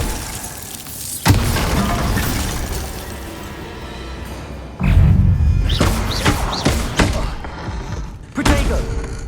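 A Bombarda blasting spell goes off in the video game Hogwarts Legacy, giving loud, heavy booming thuds with crashing bursts, several impacts spread across the clip over a rumbling background.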